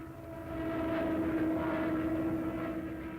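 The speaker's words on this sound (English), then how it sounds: "Stukas over Belgium." German Stuka dive bombers fly over Belgium in 1940, making a loud, steady engine drone that swells early and holds throughout with no voices.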